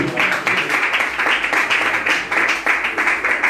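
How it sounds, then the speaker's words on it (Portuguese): Loud applause from a church congregation, rhythmic clapping in a fairly even beat, close and sustained throughout. "E as palmas para Jesus."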